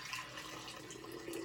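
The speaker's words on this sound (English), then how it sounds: "add the warm water before you start anything else" Warm water poured into a container for a floral arrangement, a soft continuous splashing stream heard close and alone.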